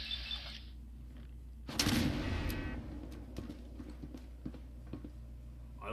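Gun turrets in a video game let off a loud, sudden burst of fire, followed by a scatter of fainter sharp shots and clattering impacts.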